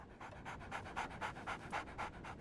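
Rhythmic dog panting in the video game Sherlock Holmes The Awakened, a steady run of about ten quick, breathy huffs, close and clear with no talk over it.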